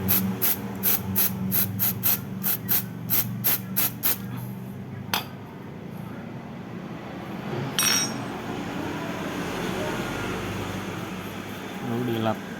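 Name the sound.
spraying carburetor cleaner on oil drain plug bolt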